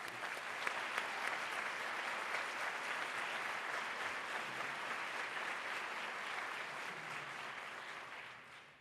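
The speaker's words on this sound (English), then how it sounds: "If we can give a big round of applause." An audience at a Women Who Care event applauds in honor of American Red Cross service, a full, sustained round of clapping that stays even for most of its length before tapering off at the close.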